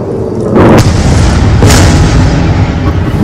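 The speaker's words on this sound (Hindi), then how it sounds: "धमाकों की आवाज लगातार आप तक पहुंच रही होगी वीडियो के जरिए" Two heavy booming blasts ring out a second apart, loud and rumbling, followed by a lingering low roar.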